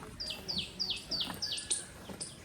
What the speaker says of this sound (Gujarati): પોપટ કેવા બોલતા તારું પોપટ પીવું પીવું બોલે